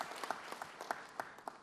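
Guest Tuan Guru Bajang is welcomed with applause at a PDIP-Perindo party meeting, a short burst of moderately distant crowd clapping with scattered sharper claps.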